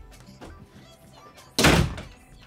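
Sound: door being shut

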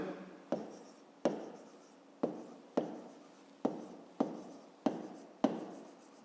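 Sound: writing a maths exercise by hand

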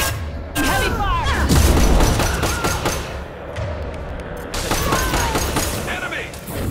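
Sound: heavy gunfire in the video game Mass Effect 2

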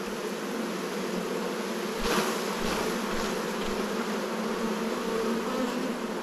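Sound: honey bees buzzing

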